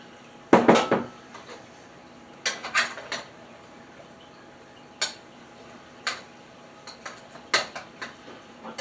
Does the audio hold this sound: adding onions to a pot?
yes